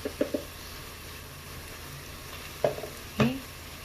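Mutton curry frying in a pan, with a low steady sizzle under a few sharp clinks and scrapes near the start and toward the end. Nobody speaks.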